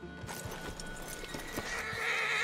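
Horse whinnying in the video game Red Dead Redemption 2, a clear neigh close by over clip-clop hooves and ambient outdoor game sound, with no talking.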